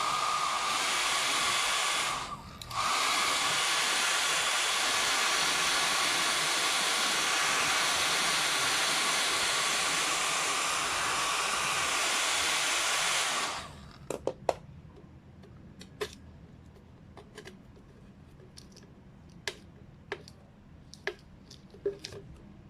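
A hair dryer blowing hot air onto a sticker on a snack jar to loosen it, a loud steady whoosh that pauses briefly and then cuts off, followed by scattered small clicks and taps.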